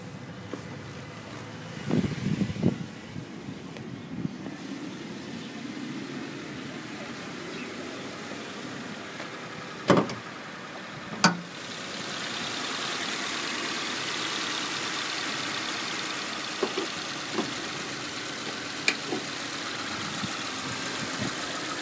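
A 2014 Subaru XV Crosstrek AWD engine idles with the hood open, humming low and continuous, with wind buffeting the microphone and a few sharp knocks and clicks scattered through.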